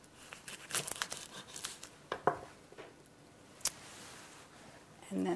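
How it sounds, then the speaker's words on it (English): A knife slices through a tightly rolled raw food wrap of greens with a few crisp crinkling cuts and soft tearing sounds, close and moderately quiet, with scattered clicks and a light clatter at the end. "Take your knife, cut it"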